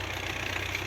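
Tractor engine working a potato field in a Russian village, a steady low mechanical drone with a slight pulsing throb, close and continuous with no voices.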